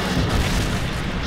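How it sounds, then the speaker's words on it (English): A heavy, booming blast from a Predator missile strike in Modern Warfare 3 online multiplayer, loud and close, filling the short moment with a dense rumbling roar. "Friendly Predator missile inbound."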